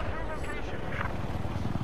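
Helicopter in the Battlefield 4 video game, a continuous low rotor and engine drone with faint whining tones above it, heard under steady talk from players.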